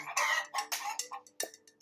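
A hen clucks several times in quick succession, close and clear, with short sharp bursts and brief pauses between them.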